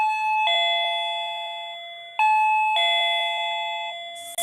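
An electronic shop doorbell chimes two full ding-dong melodies, each starting loud and fading slowly, with a short burst at the very end. It is close and clear, with no voices.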